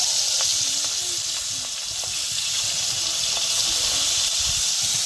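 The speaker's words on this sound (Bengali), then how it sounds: "এই সব মাছগুলো একসাথে ভাজা নিব" Small fish such as taki, koi and nola head fry together in hot oil, a continuous close hissing sizzle with faint squeaky bubbling and crackles, steady and fairly loud.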